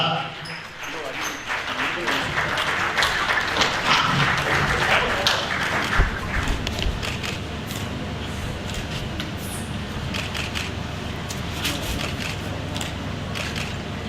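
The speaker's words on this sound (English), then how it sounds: "Please a round of applause for her" An audience applauds the newly inaugurated third president of the ACFC Lagos Chapter at an investiture ceremony, with sustained clapping and scattered sharper claps as voices and crowd murmur continue underneath.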